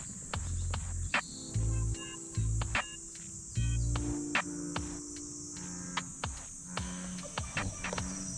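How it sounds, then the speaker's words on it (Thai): Frogs croak at a pond in Japan, giving repeated low, throbbing calls in irregular bursts close by, over a constant high insect-like drone, with no talking. "มีเสียงกบร้องต้อนรับด้วยนะครับ"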